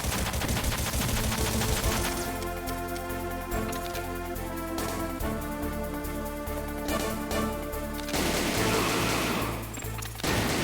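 Gunfire in a tactical espionage video game, with dense bursts of shooting and automatic fire layered over a constant game soundtrack, loud and near for most of the stretch.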